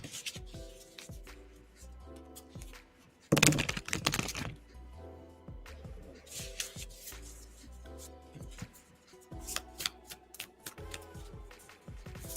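Tarot cards being shuffled by hand during a live reading, a run of soft riffling, rubbing and tapping with one sharper burst of riffle partway through, close and fairly quiet.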